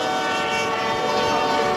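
Train horn and rolling rail cars at a railway station, a drama sound effect: a sustained, loud horn tone over steady wagon rumble, continuous throughout with no pauses.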